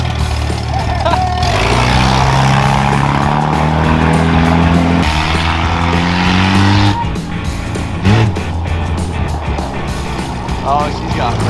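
A car being test driven revs loudly and brakes hard, its tires squealing and skidding across the pavement. Engine roar stays close and steady throughout, with a voice speaking over the noise.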